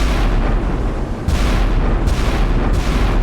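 An Iowa battleship's 16-inch guns firing broadside in a naval video game, a rolling low boom followed by three heavy blasts in quick succession, loud and close.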